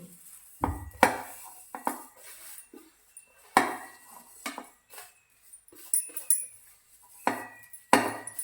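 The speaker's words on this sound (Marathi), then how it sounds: "मेथी दाणे लवंग आणि काळे मिरे आपण कुटायला घेऊ" Fenugreek seeds, cloves and black pepper pounded by hand for a traditional oil-free mango pickle, a series of sharp irregular knocks with quiet pauses between strikes, close and clear with no talking.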